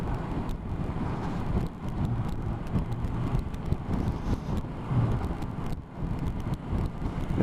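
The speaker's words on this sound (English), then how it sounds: "Might get an opportunity here to just blast past this lorry." A car on a road near the North Norfolk coast accelerates to overtake a lorry, its engine and heavy wind rush forming a loud, steady roar that swells and dips slightly without pause.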